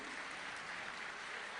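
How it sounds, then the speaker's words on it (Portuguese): Faint, distant clapping from a church congregation during a Portuguese-language Sunday service, a brief steady patter of many hands. "Vamos aplaudir ao Senhor?"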